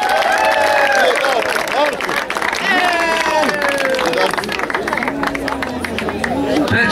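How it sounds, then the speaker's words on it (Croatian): Outdoor award ceremony audience at a small-football tournament breaks into sustained applause for team Mršići, dense steady clapping mixed with crowd chatter, shouts and whistles from close by throughout. "Ajmo jedan veliki aplauz za ekipu Mršići."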